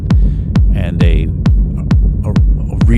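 A techno kick drum hits in a steady four-on-the-floor pulse, pumped by sidechain-style shaping, distortion saturation and reverb, loud and dry-punchy with tails ducking between beats.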